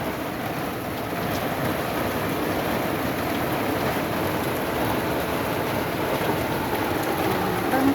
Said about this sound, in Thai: ฝนตกค่ะ บรรยากาศฝนตก